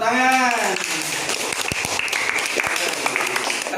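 Students in a classroom give a short round of clapping, with a voice at the start and a few sharp individual claps standing out as it fades.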